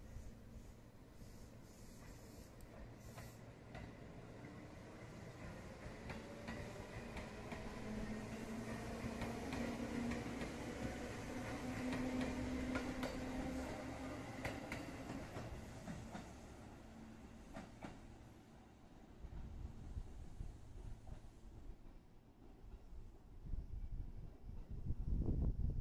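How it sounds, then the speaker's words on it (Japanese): Inside a Seibu 101 series electric train on the Seibu Sayama Line, a low steady rumble of motor and wheels swells and eases as the car rolls along, with faint rail clicks and a louder surge near the end. "それでは101系電車に乗って西武球場前駅へ向かいます。"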